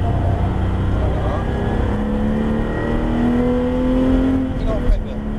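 A Porsche GT3 on a race track accelerates progressively, its engine note climbing in a steady rising whine, loud and close, while someone talks over it.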